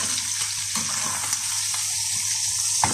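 Steaks frying in butter in a pan while being basted, a continuous bright sizzle and crackle with a few louder spits near the end.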